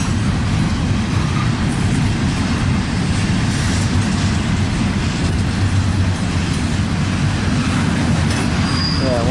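Freight locomotive 112 rolls past in a rail yard, a loud continuous rumble of engine and wagons with wheel squeal and faint clatter, sustained steadily close by without a break.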